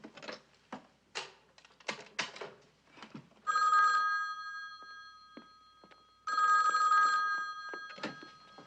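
Old-style telephone bell rings in two loud, sustained bursts with a pause between, following scattered clicks and clacks like typing or handling nearby.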